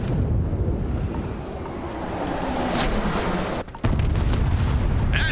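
Missile strike explosion hitting a facility in the Starfield video game: a loud, sustained rumbling blast with a deep low roar, a brief dip, then a renewed heavy boom continuing to the end.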